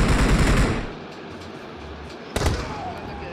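Shotgun fire from PUBG Mobile on the Livik map: a loud, rough blast opens the moment and decays, then a second sharp shot cracks out near the end, both close and forceful.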